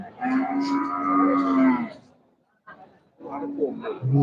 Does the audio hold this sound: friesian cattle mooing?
yes